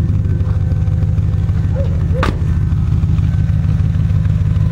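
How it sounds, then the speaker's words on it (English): A car engine idles steadily about three feet out from the exhaust, a low even burble with constant level, briefly marked by a short sharp click midway. "right now we're about 3 feet away from directly out from the exhaust, and that's what it sounds like idling"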